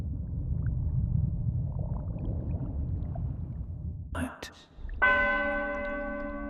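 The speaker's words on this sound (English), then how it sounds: "You can still hear the ghost of the Rungholt church bell." After a low rumble of water, a single deep church bell strikes and rings out, its tone slowly fading.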